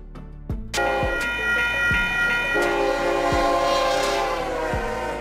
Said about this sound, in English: Diesel train. A train powered by a diesel engine.